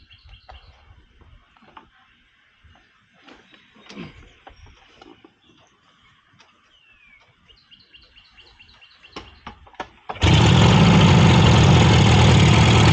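Purple 1967 Yamaha YR1 motorcycle engine bursts to life and holds a loud, steady idle after a quieter stretch of faint clicks, handling noises and distant birds.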